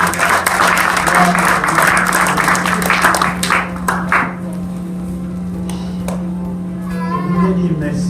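A church congregation breaks into dense, loud applause that dies away after about four seconds, leaving scattered claps and a voice speaking over the room.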